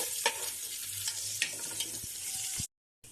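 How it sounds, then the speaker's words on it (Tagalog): Garlic, onion and ginger sauté in hot oil with a close, steady sizzle. A utensil scrapes and stirs in the pan with a few sharp clicks, and the sound cuts off abruptly near the end. "Mag-gisa na tayo. Unahin natin ang bawang. Sunod na ang sibuyas at luya."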